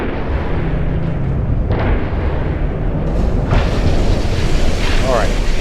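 Naval gunfire booms from warships in the Ultimate Admiral: Dreadnoughts game, with a Prinz Eugen present, rumble as dense, continuous low-end blasts, and a voice talks over the top of the barrage.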